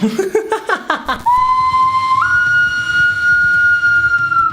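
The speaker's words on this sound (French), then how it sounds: "J'ai trop rire avec le sifflet de Maya." Someone blows a whistle loudly and close by: a rapid run of short chirping blasts, then one long sustained shrill tone that steps up in pitch partway through and holds steady until the end.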